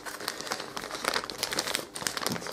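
Tough plastic packaging crinkles and crackles in quick, uneven bursts, like a stiff bag holding a plesiosaur dinosaur toy being handled and pulled open close by.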